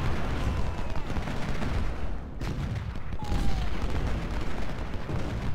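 Gunfire rattles through a Civil War battle in the Ultimate General Civil War video game, with dense volleys and booming shots piling into a continuous, rumbling din near the listener and no voices over it.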